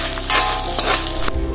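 Dried red chillies fry in about half a teaspoon of oil in a pan, a close, steady sizzle and crackle with a few light clinks, ending abruptly.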